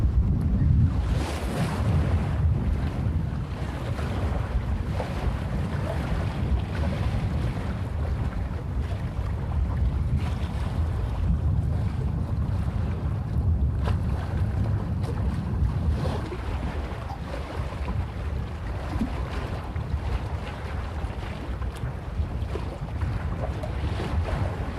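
Wind buffets a microphone fitted with a small windsock beneath a highway, a loud continuous low rumble with gusty swells throughout and no speech.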